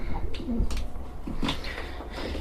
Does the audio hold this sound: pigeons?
yes